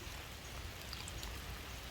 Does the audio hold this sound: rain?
yes